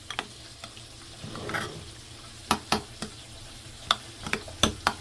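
A spoon stirs tomato and chili sauce together for a spicy tilapia recipe, giving soft scraping and sloshing followed by several sharp clinks of the utensil against the bowl.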